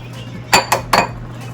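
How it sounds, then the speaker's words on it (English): Eggs being cracked for lasagna filling: three quick, sharp taps against a bowl rim close by, with a steady hum beneath and no talking. "Make sure you crack the eggs outside of your cheese, just in case."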